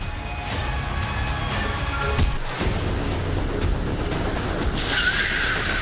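A car brakes to a stop with tires skidding across the road, a steady roar of engine and tire noise that breaks briefly in the middle and ends with a rising squeal, with no speech.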